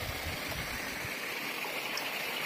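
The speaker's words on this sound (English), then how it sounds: "There's a small river here." A small mountain river in Valais, Switzerland, flows over stones in a steady, close, unbroken rush of water, with no voices.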